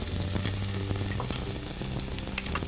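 Dried figs and fennel seed sizzle steadily in a hot pan, a dense, close crackle of frying with faint stirring clicks and no voices.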